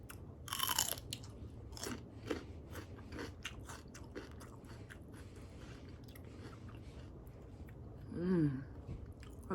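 Crunchy raw celery bitten and chewed up close during a chicken wing meal, a loud crisp snap at the start followed by repeated moist crunching chews and a later squishy bite.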